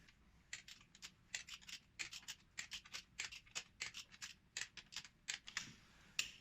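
A torque wrench ratchets as bolts on a 1.4 TDI engine are tightened to 60 Nm, giving a quick series of close, crisp clicks in short irregular bursts against a quiet background.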